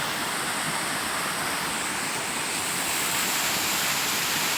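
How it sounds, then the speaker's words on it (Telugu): Steady, loud rush of water gushing continuously at a waterfall, a dense roaring splash with no pauses. "చూసారా ఫ్రెండ్స్, బోరింగ్ లాగా ఎలాగ వస్తుందో వాటర్"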